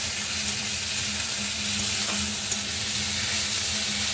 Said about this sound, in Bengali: মশলাটা দিয়ে এটা আবার কষাবো আমি